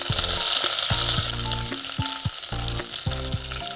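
Curry leaves hit hot oil already seasoned with mustard seeds, fenugreek and red chilies, setting off a loud, steady crackling sizzle that carries on throughout, with background music underneath.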